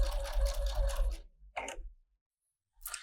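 A sewing machine stitching fabric for a pajama top yoke, a fast steady whirring run for about a second, then a short second burst and a brief final start after a pause.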